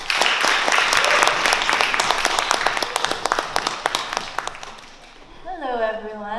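Audience applause for a performer, dense clapping close and loud at first that thins into scattered claps and fades out, followed by a voice beginning to speak.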